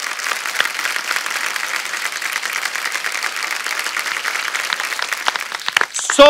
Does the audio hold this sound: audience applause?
yes